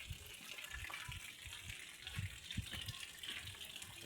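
Floodwater flowing through a village river channel after rain, a steady rushing wash with a few louder splashes and gurgles, fairly close and continuous, no talking.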